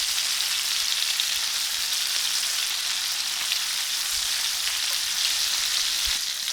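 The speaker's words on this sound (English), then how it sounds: "I'm just going to turn these fillets now for another minute on the other side" Snapper fillets fry in a pan with a constant, hissing sizzle that holds steady throughout. A faint knock comes near the end.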